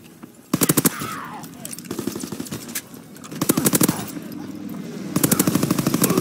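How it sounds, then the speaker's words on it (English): Bursts of rapid aircraft gunner machine-gun fire in Call of Duty WWII, three or four loud rattling volleys separated by brief gaps over a droning game background. "Aircraft gunner loops the airspace"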